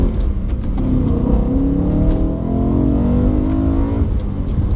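A BMW M3 E92 Competition with a manual gearbox revs hard, its high-revving engine rising and falling in a loud, close, smooth howl. The roar is sustained and heard without any talk.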